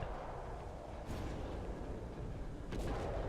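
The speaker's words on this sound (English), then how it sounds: "Okay, see, that was a headshot." Gunfire from the horror game Call of Cthulhu: Dark Corners of the Earth, aboard a boat: two sharp shots about a second and a half apart, rising over a steady, rumbling in-game ambience.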